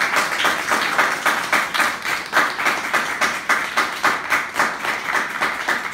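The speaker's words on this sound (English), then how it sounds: "I'd like you guys to give a big round of applause for" Audience at a comics writing panel meetup in New York applauds steadily, a dense, close wash of many hands clapping in a quick, even rhythm throughout, with no talking.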